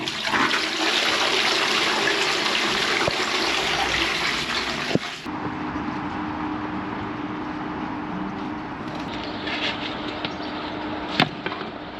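Drain jetter flushing water through a toilet pan in an office and warehouse washroom, a loud rushing gush that drops off abruptly midway, leaving a quieter steady hiss with a few knocks.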